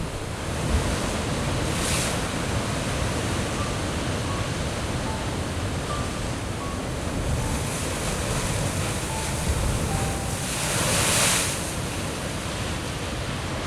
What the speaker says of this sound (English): I always feel like I'm home in some way when I hear the power of the waves